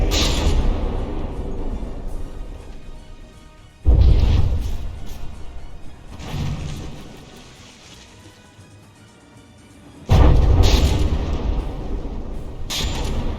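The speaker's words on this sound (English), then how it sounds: "there's a six shell barrage coming in, landing basically right in the center of the ship" Shells from a six-shell barrage slam into the center of a battleship in From the Depths, heavy booming impacts arriving in loud broadband bursts with rumbling decay between them, no talk.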